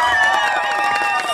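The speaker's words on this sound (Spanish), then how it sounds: "Aplausos para la pareja número 6" At a festival dance contest in Firavitoba, Boyacá, a crowd cheers and applauds a dancing couple, a dense, loud wash of voices and claps over a brief moment.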